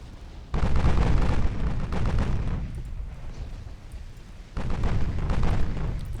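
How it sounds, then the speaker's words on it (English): 8-inch naval shells fire and land in the naval battle game Ultimate Admiral: Dreadnoughts, a dense, rumbling roar of booming cannon fire and explosions that swells twice with heavy onsets and never lets up. "Olympia is getting seriously impacted by all the 8-inch shells"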